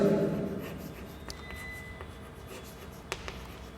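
A pen scratches across paper while accounting entries are written out, close and faint, in short irregular strokes with a few taps; a voice is briefly heard at the start.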